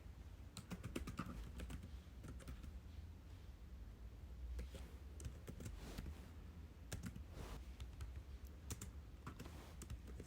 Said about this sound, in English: So bear with me while I type this.